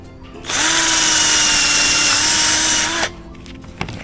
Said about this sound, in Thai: ก็เจาะ